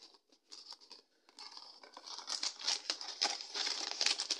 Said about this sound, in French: pour le mettre dans le papier ils ont plié mais ça fait craquer le papier